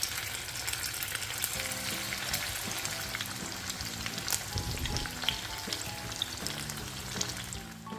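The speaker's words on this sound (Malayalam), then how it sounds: "ഇതുപോലെ പിടിച്ച് ഓരോന്ന് നിങ്ങൾക്ക് ഇഷ്ടമുള്ള ഷേപ്പിലാക്കി എണ്ണയിലിട്ട് ഫ്രൈ ചെയ്തെടുക്കാം" Vermicelli vada frying in hot oil, a steady crackling sizzle with scattered pops and light stirring sounds throughout, close and moderately quiet.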